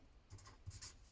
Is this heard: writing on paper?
yes